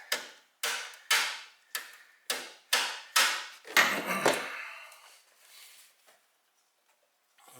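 A series of about seven sharp metallic taps on a 2003 Mitsubishi Galant 2.4L alternator, evenly spaced and close, fading into quiet handling noise at the end.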